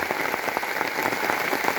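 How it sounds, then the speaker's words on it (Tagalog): Heavy rain pours down steadily outdoors on a farm where coconut shells are being made into charcoal, a dense continuous patter with scattered drop impacts and no voices. "Nag-ulan mga ka-farms. Ulan, grabing ulan."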